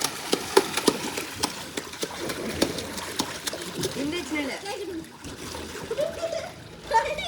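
Children splash and slosh water in an inflatable swimming pool at home, with repeated sharp splashes and trickling. Voices chatter faintly underneath the splashing.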